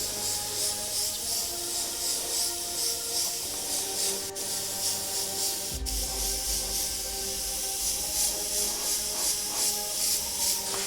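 An airbrush spraying flesh tone paint while highlighting a feather, a steady close hiss of air and paint that continues throughout with slight pulsing in strength.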